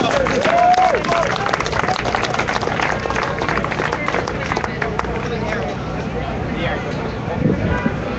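A crowd applauds and cheers to welcome a street performer onto a stage, loud clapping mixed with whoops and general crowd noise that carries on at a steady level throughout.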